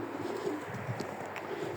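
Soft, low pigeon coos murmur faintly under a constant background hiss, with no speech.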